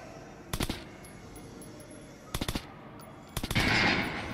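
Gunfire at a shooting range in the video game Metro: Last Light, three short bursts of rapid automatic shots spaced about a second apart over a quiet background, fairly close.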